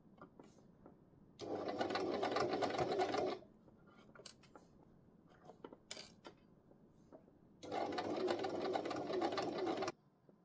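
Sewing machine stitching closed the opening of a fabric pocket, in two steady runs of fast whirring with quiet handling noises and small clicks between them, close and moderately loud.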